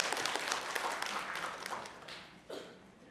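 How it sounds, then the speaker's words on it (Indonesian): An audience of women at a PAUD-SD transition training session in Indonesia breaks into dense, sustained applause that fades slightly toward the end, with no talking over it. "Tepuk tangan untuk kita semuanya."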